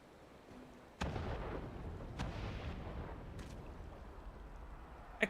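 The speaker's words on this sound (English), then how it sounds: "Explosion." A loud explosion from Final Fantasy XIV bursts in abruptly, followed by a rumbling, crackling tail that lingers for several seconds, with a couple of smaller blasts later on.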